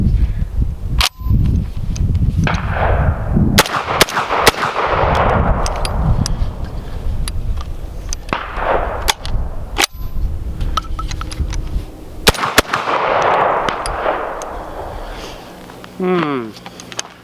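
A VR80 semi-automatic shotgun fires rapidly at targets outdoors, loud sharp blasts in quick clusters with ringing echoes and metallic clangs between shots, while people talk in the background.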